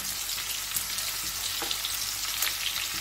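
Garlic frying in hot oil for a Chinese-style dish, a loud, close, continuous crackling sizzle with faint stirring, no one speaking.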